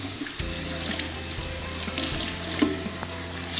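Water runs steadily from a sink tap while dyed chita cotton fabric is rinsed under it to cool after hot dyeing. A continuous close splashing hiss with faint clinks goes on and no one speaks.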